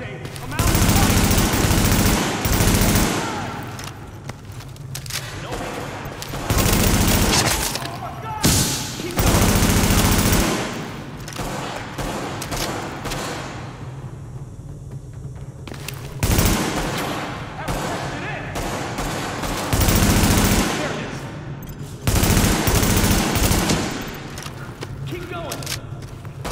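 Repeated bursts of automatic gunfire in The Division, loud and close, alternate with quieter stretches as voices shout and talk throughout the firefight.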